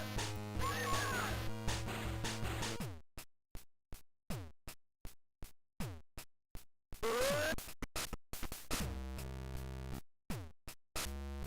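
Spider sound effect in a GB Studio game: a rapid series of sharp clicking and skittering bursts with short gaps between them, set between stretches of chiptune music, fairly faint and with no talk.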